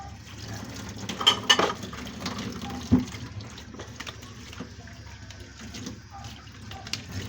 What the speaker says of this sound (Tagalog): magugas sa mga pinggan